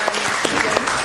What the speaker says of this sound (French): Est-ce qu'on peut applaudir justement?